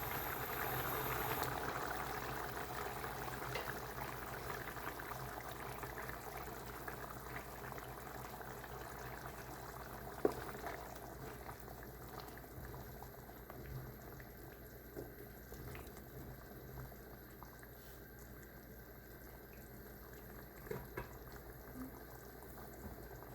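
Chickpea masala with coconut simmering in a pot, a quiet bubbling and watery burble heard close, with a few small clicks and knocks and no talking.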